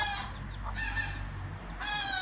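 A Wyandotte hen clucks close by in a short run of clucks and calls, with a low background hum underneath.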